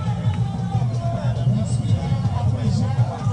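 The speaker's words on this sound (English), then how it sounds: "The crowd here is absolutely humongous" Dense murmur of a huge crowd at the Akwasidae jubilee celebration for Otumfuo Osei Tutu II, a steady, loud babble of many voices close around with no single voice standing out.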